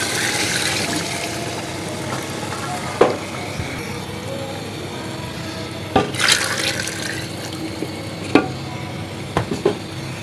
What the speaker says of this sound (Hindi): इस टाइम पे आके इसके अंदर हम अपनी यखनी ऐड कर देंगे।